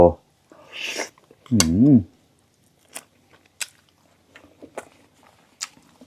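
Someone takes a big bite of food with Thai spicy tilapia curry, giant lime chili dip and assorted vegetables, sharp crunchy bites and soft chewing clicks spread across the clip, close and fairly quiet after an opening voice.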